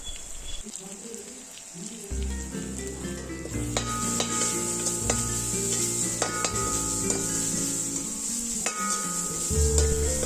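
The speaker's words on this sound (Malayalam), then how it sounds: "അര ടേബിൾ സ്പൂൺ കുരുമുളക് പൊടി കാൽ ടേബിൾ സ്പൂൺ ഗരം മസാല ഇത്രയും ചേർത്ത് കൊടുത്ത് നന്നായിട്ടൊന്ന് വഴറ്റിയെടുക്കാം" Pepper powder and garam masala sizzle as they are sautéed and stirred for mint rice, a steady frying crackle with scraping strokes under a sustained tonal musical background.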